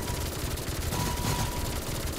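Continuous rapid gunfire from an unlimited-ammo weapon in a Call of Duty custom Zombies map, a dense, unbroken roar of shots that stays loud and steady throughout, with no talk.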